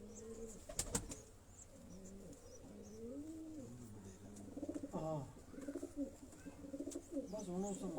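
Pigeons coo nearby in a series of soft, rolling calls with a brief wing flap early on, while someone talks at low volume throughout.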